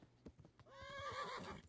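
A horse in the game Kingdom Come: Deliverance whinnies in a rising, wavering neigh, with light hoof clops tapping before it; fairly quiet.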